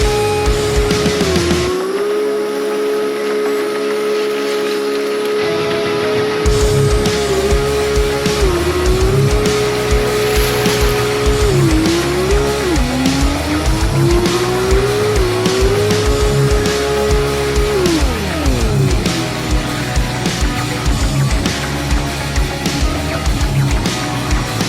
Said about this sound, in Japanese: しばらくラリードリフト動画をご覧ください